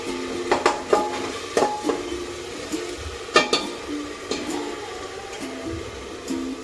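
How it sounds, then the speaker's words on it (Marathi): Masala spices roast and sizzle in oil in a pan on a low gas flame for a fresh green pea curry, with a steady soft frying hiss and close clinks from a stirring utensil. "गॅस हा बारीकच ठेवायचा, जेणेकरून आपले मसाले सगळे भाजले जातील"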